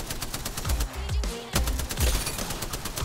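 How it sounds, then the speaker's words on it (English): Rapid bursts of gunfire from the video game Apex Legends crackle repeatedly, with sharp shots in quick succession and a few descending whooshes, loud and continuous. "I hear gunfire right all around here"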